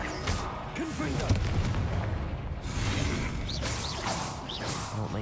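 Repeated Confringo blasting spells burst in the Hogwarts Legacy game, whooshing casts followed by booming explosions with swirling magical tails, someone briefly speaking in between.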